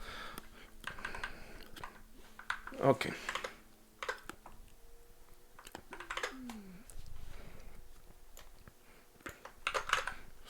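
Typing on a computer keyboard at a desk, with scattered irregular clicks and short key bursts under nearby speech, punctuated by a louder clack near the middle.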